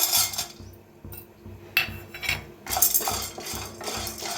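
A few spoonfuls of peanuts dry-roast in a pan, stirred with a metal spoon that scrapes and clinks against it in a steady repeating rhythm, close and moderately loud with no voices.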